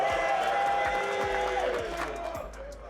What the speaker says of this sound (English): If you want Andy to stay, cheers.